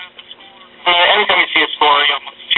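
Admiral tube radio playing after a repair and IF alignment, its band-limited, boxy broadcast audio carrying speech-like sound in loud bursts, close by and alone.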